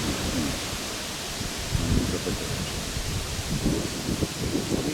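Strong wind roars in a broad, steady hiss with gusty swells on open ground by large burial mounds, alone and without any voices.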